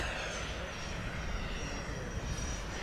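An E-flite SU-30 twin 70mm electric ducted-fan RC jet flies a touch-and-go with its gear retracting, giving a steady, continuous whooshing roar at moderate distance throughout, with no breaks.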